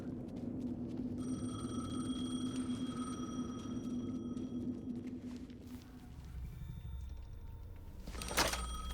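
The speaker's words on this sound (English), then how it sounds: "The phone again." A telephone rings in a video game with steady tonal bursts over a low rumbling background, ending with a sharp clatter near the end.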